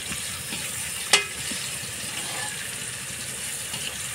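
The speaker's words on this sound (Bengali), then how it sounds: "পটলগুলো ভেজে নিচ্ছে।" Pointed gourd (potol) pieces frying in a pan, a steady moderate sizzle heard close by, broken once by a sharp clink early on, with a few faint stirring scrapes and no speech.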